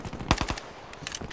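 Rapid-fire M1911 pistol shots in a video game: a quick burst of three or four sharp, punchy cracks in fast succession, followed by fainter, lighter shots trailing off, with no talk.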